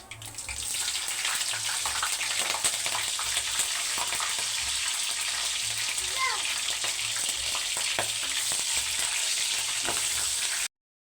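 Green chillies frying in hot oil in a home kitchen pan for a cauliflower and raw prawn masala curry, a steady dense sizzle running throughout with faint scraping, ending abruptly.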